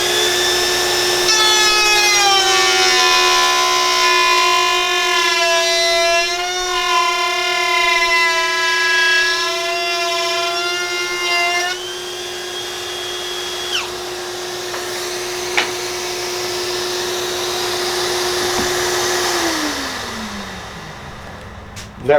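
Milwaukee M18 Fuel cordless router cutting MDF, a loud, steady high-pitched whine with wavering tones that gradually drops, then the motor winds down near the end; close and continuous.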